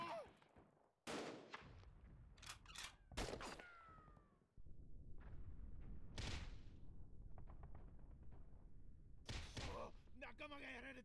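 Gunfire in the video game Skirmish Line rings out as scattered sharp shots and brief bursts, some loud and close, over a faint background hum, with occasional voices.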